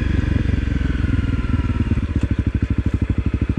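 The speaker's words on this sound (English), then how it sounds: "See how the Crf250L does climbing some dirt hills." A 2018 Honda CRF250L dirt bike climbs a steep dirt hill, its single-cylinder engine thumping loud and close in a rapid pulsing rhythm that grows more distinct and choppy as it works up the slope.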